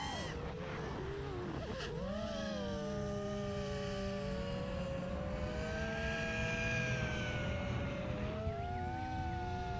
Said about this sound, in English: First time flying a kayak flying a FPV drone